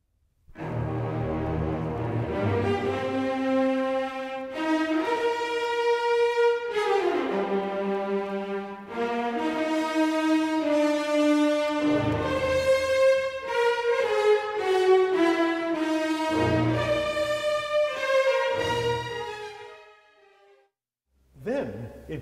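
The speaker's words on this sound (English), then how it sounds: "Richard Strauss began this work by introducing the hero's main theme." Orchestral opening of Strauss's Ein Heldenleben, the hero's main theme played by contrabasses, cellos and French horns; a bold, leaping melodic line sustained and full for about twenty seconds, then a brief pause and a new entry.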